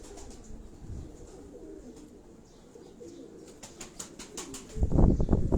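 Pigeons on a windy rooftop coo softly through a steady rush of wind, with a few faint chirps. A close burst of flapping wings erupts near the end.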